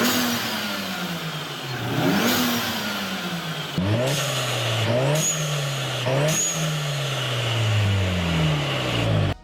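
A turbocharged car engine revs up and drops repeatedly, and sharp hissing bursts from a blow-off valve venting intake pressure follow each lift off the throttle; loud and close, with no talk.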